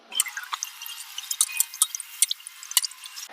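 Water splashes and drips in quick irregular bursts as skinless bone-in chicken pieces are swished and rinsed in a bowl close by.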